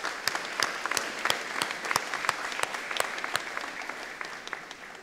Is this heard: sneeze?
no